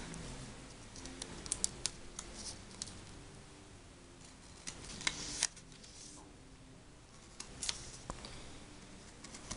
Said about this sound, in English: So what we're going to do is just remove the tape.